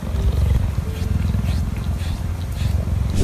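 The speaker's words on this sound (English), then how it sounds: "Listen to the cheetah's purr." Cheetah purring close up, a steady low rumbling pulse that runs continuously and fairly loud throughout, with faint rustling and background noise above it.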